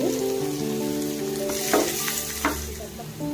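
Onions, garlic and dried chillies frying in a pan, a close crackling sizzle with a few sharper scraping stirs midway.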